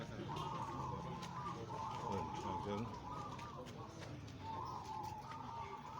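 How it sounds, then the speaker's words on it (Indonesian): Zebra doves (perkutut) coo at a local bird-song contest, rhythmic repeated phrases from several birds overlapping across the stretch, set against a busy crowd murmur and voices talking. "lomba burung perkutut"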